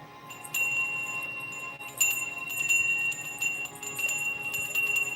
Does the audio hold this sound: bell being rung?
yes